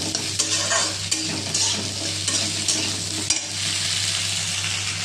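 Okra tumbles into a pan of browned onions and fries with a loud, constant sizzle, while a spatula stirs and scrapes against the metal in repeated close knocks and rasps.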